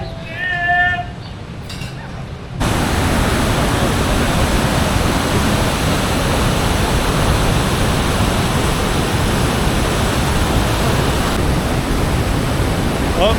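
Powerful waterfalls near Roman ruins in the Antalya region roar as a loud, constant broadband rush that begins abruptly after a few seconds of quieter ambience with faint chirping, then holds steady throughout.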